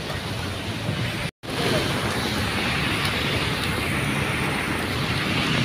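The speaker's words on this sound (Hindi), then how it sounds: "पूरा बारिश हो रहा है" Heavy rain in Bengaluru, with flooded, waterlogged roads, forms a dense, steady wash of noise that stays loud and constant throughout. A brief dropout interrupts it, and there may be traffic in the background.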